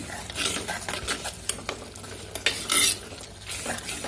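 Tomato gravy for chapatti simmering in oil in a pan while being stirred, with close scraping strokes and bursts of sizzling and frying crackle, no talking.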